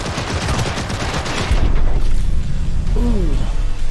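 Gunfire in the video game Cyberpunk 2077: a dense, loud fusillade of rapid shots and impacts over heavy low-end game noise, with a brief electronic warble near the end.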